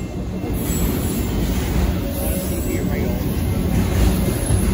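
A northbound Union Pacific mixed freight train with a mid-train DPU passing at a road crossing, a loud continuous rumble of wheels and cars rolling by close, with occasional high wheel squeals on top.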